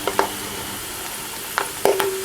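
Whole spices such as cumin, black cardamom, cloves and black pepper fry gently in oil with golden onions, giving a soft steady sizzle with a few brief stirring scrapes and clinks and no talking.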